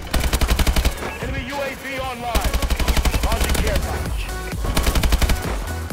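An AK-12 firing in the video game Advanced Warfare, with loud, rapid automatic bursts and short pauses between them.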